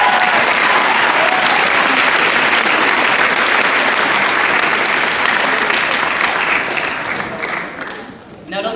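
Loud, sustained applause from a school graduation audience honoring the teachers, dense clapping filling the space for about eight seconds before tapering off.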